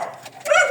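A dog begging for food gives a short, close, high-pitched whimper followed by a yip, lasting under a second.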